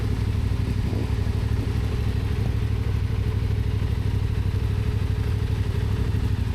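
Adventure motorcycle engine at a rider training weekend, a steady close chugging idle with rapid regular pulsing and mechanical clatter, continuous and fairly loud with no talk over it.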